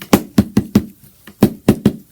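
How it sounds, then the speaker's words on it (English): An iPhone 7 Plus in a protective case is banged repeatedly against a surface, giving seven sharp, loud knocks in an uneven rhythm, close up and with no talking. "Oh man, he banging his phone around."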